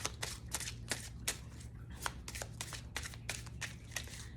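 Tarot cards being shuffled close up in a quick series of crisp riffling bursts, about a dozen short flutters in a steady, slightly uneven rhythm, with nothing else heard.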